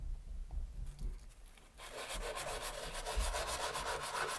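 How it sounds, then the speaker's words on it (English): Sandpaper worked from 220 up to 3000 grit smooths the cut edge of a silver 1884 Morgan dollar coin ring, a steady close rasping rub that starts faintly and grows louder and continuous after a quiet opening. "I'll take this 220 grit all the way down to a 3000 grit sandpaper."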